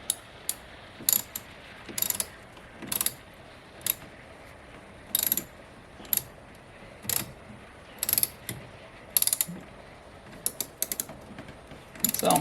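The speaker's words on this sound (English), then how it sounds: "tighten the nut down on that one first" A ratchet tightening a nut while an EMP Shield is fitted to a car: short bursts of rapid clicking repeat at roughly one-second intervals, close and crisp against a quiet background.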